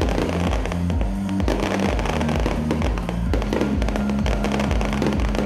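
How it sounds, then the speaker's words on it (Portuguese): Fireworks burst continuously at a city anniversary celebration, a dense run of crackles and bangs layered over loud steady band music for the whole stretch. "A queima de fogos pela passagem do aniversário da cidade também marcou o início"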